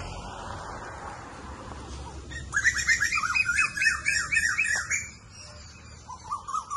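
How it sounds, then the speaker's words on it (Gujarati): An Asian koel calls on an organic fruit farm with a run of repeated rising whistled notes, fairly close, above quiet outdoor background and with no talking. "સરસ મજાની કોયલ બોલી રહી છે."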